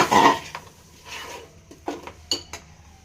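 Metal spoon scraping and clinking against a pot while stirring goat and sheep leg soup with ground masala, a few short knocks and scrapes at close range with a faint background hum.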